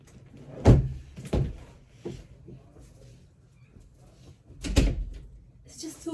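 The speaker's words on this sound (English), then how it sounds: "let me close this door." A few solid thuds of a door being shut, spaced apart, with a louder slam near the end and faint room noise between.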